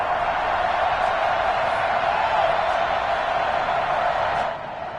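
A sold-out stadium crowd roars in a Madden NFL football game before a Bills versus Chiefs matchup. The wash of cheering is loud and sustained, then eases slightly near the end.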